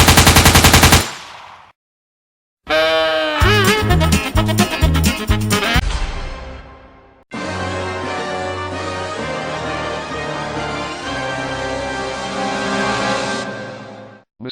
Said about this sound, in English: And now, Mr. Pinwheel, you are gonna shoot us, or